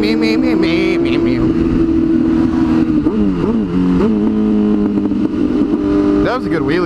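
A motorcycle engine revs hard and close during a wheelie, loud buzzing pitch climbing and dropping through several throttle bursts and gear changes over a few seconds.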